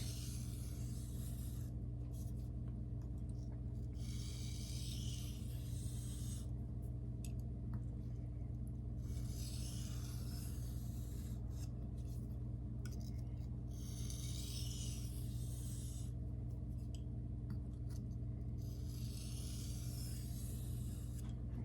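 A ProCut knife is sharpened freehand on a Shapton Glass whetstone with light pressure, giving repeated soft rasping strokes in rhythmic bursts over a constant low hum, quiet and close.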